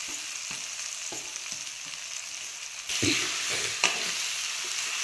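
Vada pav potato filling with turmeric and coriander sautéed in a pan, a steady sizzle with a brief sharp tap at the start and periodic scraping stirs, growing louder partway through.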